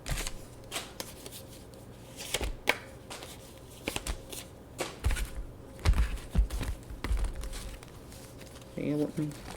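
A deck of cards is handled up close while colorful cards are pulled out, giving soft papery shuffles, flicks and scattered light thumps, with a faint voice now and then.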